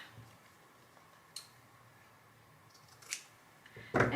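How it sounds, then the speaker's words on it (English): Scissors snipping artificial craft leaves, a few sparse, crisp cuts spaced apart in a quiet room, ending in a louder rustle of handled material. "I'm gonna cut some of these leaves up here. Cut them right off of my leaf."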